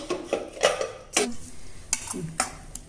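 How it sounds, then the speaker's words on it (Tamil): A spoon stirring ash gourd curd pachadi in a metal vessel for a traditional lunch, several distinct scrapes and clinks spaced irregularly, close and fairly quiet. "நீர் பூசணிக்காய் தயிர் பச்சடி கலக்கிட்டே இருக்கேன்"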